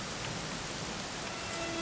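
Steady rain falling in the video game Dragon Quest XI S, a continuous even hiss that fills the whole moment with no voices over it.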